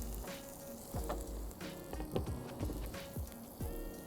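Chili and garlic sizzling in very hot ghee for a grilled chicken curry, a close crackling hiss broken by sharp spits and pops, repeating irregularly with no voices.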